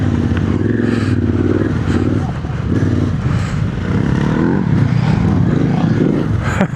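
A Yamaha Tenere 700 adventure motorcycle ridden on a lap, its engine note droning steadily up close with shifting revs and some clatter throughout.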